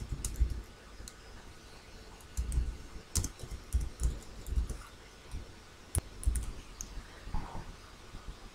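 Computer keyboard typing while entering text into a PowerPoint shape: irregular bursts of soft key clicks with a few sharper taps, close and fairly quiet, no talking.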